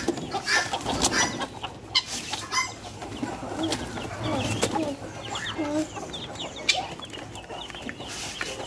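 Country chickens raised on an organic poultry farm cluck excitedly as they are let out of their coop in the morning, a busy, close chorus of overlapping clucks and squawks with a faint voice beneath.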